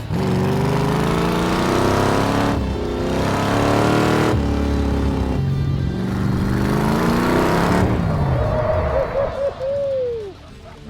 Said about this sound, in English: Which is a car on jack stands. That runs and revs.